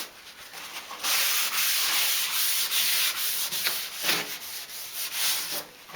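A car door panel being wiped down with body degreaser and panel prep, heard as repeated close rubbing strokes in a steady back-and-forth rhythm, with no talking.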